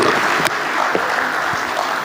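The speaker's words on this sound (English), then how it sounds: "So let's give a big happy birthday round of applause." Audience applause for a 60th birthday at a gathering remembering Herbert Wigwe, a loud, dense and continuous round of clapping from a large crowd.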